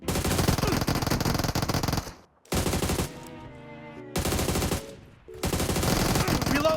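Automatic weapon fire in the mobile battle-royale game PUBG Mobile comes in loud, dense bursts of rapid shots with short pauses between them, and game sounds continue in the gaps.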